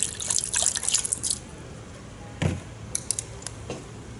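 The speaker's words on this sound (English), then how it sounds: "I'm going to add in a little bit more broth just to submerge the rice." Broth is poured into a pot of rice for coriander rice, a brief soft splashing trickle followed by a few scattered drips, quiet and close.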